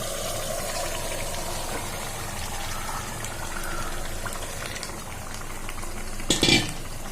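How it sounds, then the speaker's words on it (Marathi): Marinated mutton frying in a pan with browned onions for a 1 kg mutton biryani, a steady sizzling bubble with stirring and scraping, ending in a louder clatter of a utensil against the pan. "आता हे मॅरिनेट केलेलं मटण आपल्याला घालायचं आहे त्याच्यामध्ये"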